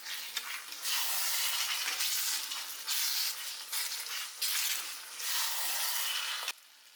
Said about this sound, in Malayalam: നല്ല രസമാണ് ഇങ്ങനെ ചെറിയ ഉള്ളി വറവിട്ടത്